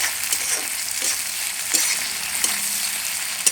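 Chopped onions and tomato sizzle in hot oil in a village kitchen as a prawn curry is started, a steady crackling fry broken by a few sharp stirring clinks and scrapes.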